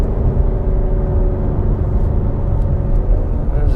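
A 2016 Ford Mustang Shelby GT350 engine holds a steady, loud, dense rumble with layered harmonics, revving at around 4,000 RPM for the whole stretch, with no talk over it.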